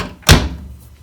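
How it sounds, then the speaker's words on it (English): The door of a Miele T1 tumble dryer is pushed shut, giving a single solid thunk with a short rattle, heard close and alone in a quiet room. "Close the door."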